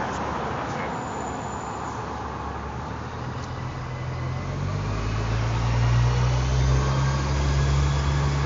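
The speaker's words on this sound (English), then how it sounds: "I got a bus coming here." A bus approaching on a street, a low engine rumble that grows louder and deeper over several seconds as it nears, with general traffic noise around it.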